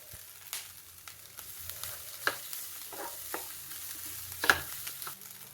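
Breakfast ingredients stir-fried in a pan, with a soft continuous sizzle and scattered scraping strokes of a spoon, two sharper clinks standing out, close and moderately quiet with no talking.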